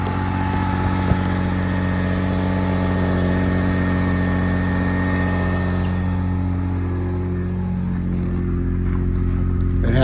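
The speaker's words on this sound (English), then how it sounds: "The car sounds incredible when you're running it." A 1978 Porsche 911 SC Targa with a MagnaFlow exhaust idles steadily, a loud, even flat-six burble with a low droning hum that holds throughout with no voices.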